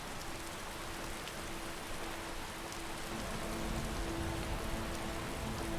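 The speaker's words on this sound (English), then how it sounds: "It's raining a lot." Steady rain pouring in Markarth, a stone city in the video game Skyrim, forms a constant dense hiss across the whole stretch, with a faint low hum running beneath it.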